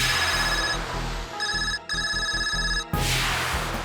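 A mobile phone ringtone plays loud and close, a steady electronic melody of bright tones that breaks off briefly twice and then stops, leaving only faint background hiss.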